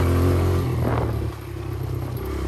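A four-stroke dirt bike engine runs along a tight trail with a low, steady drone and some rattling clatter, close and fairly loud.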